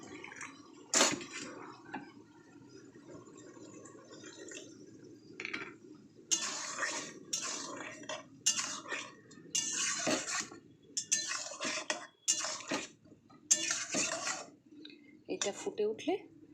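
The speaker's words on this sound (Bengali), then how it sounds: "মশলার বাটিটা ধুয়ে" Spice bowl rinsed with water in a home kitchen: bursts of splashing and clinking dishes come in short runs over a steady low background hum, with a voice talking now and then.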